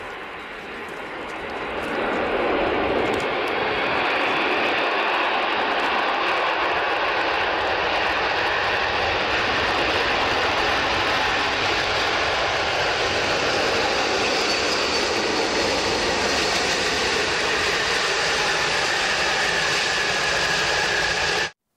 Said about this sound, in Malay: Semasa kapal terbang itu nak berlepas ataupun mendarat, memang bunyinya sangat bising.